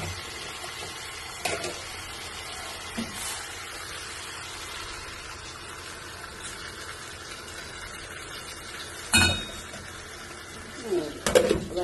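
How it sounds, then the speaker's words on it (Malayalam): A steady wash of hot water pours into a cauliflower and potato curry throughout, with a few sharp clinks of a utensil against the pot, close and moderately loud. "കുറച്ച് വെള്ളം ഒഴിച്ച് കൊടുക്കുക."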